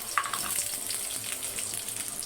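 Onions sautéing with cashews in a pan give a steady, soft sizzle with light scraping and stirring throughout, moderately close and with no voices.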